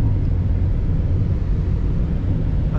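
A Ferrari Roma in sport mode gives a steady, dense engine and exhaust drone from inside the cabin, heard on its own without talk.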